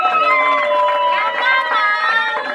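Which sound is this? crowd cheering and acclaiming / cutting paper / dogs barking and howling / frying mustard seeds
crowd cheering and acclaiming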